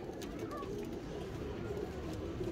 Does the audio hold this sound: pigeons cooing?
yes